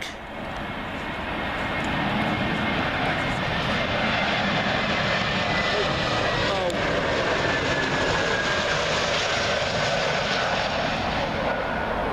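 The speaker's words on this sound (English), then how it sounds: "Up next will be Swissair. That's who it'll be. 320neo from Zurich." Swiss Airbus A320neo from Zurich landing on Heathrow runway 27L, a loud steady jet roar rising in the first seconds and holding close overhead with a faint whine on top.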